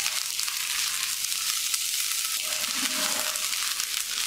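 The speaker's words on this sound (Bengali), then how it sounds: "এখন এই আদা রসুনটুকু পেঁয়াজটার সাথে মিশিয়ে কিছুক্ষণ ভেজে নিব।" Ginger-garlic paste fries with onion for an egg and pointed gourd curry, a constant close hissing sizzle with faint stirring scrapes underneath and no speech.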